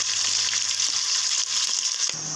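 About half a kilo of chopped onions hit hot oil in a pan for prawn biryani, a loud, bright, steady sizzle right up close that cuts off sharply near the end.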